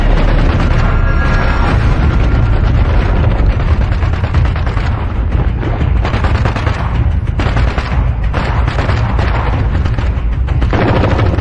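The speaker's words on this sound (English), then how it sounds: "The night erupts into gunfire." Heavy gunfire erupts at night during a hostage rescue, a continuous loud barrage of booming shots and blasts with a dense rumbling low end throughout.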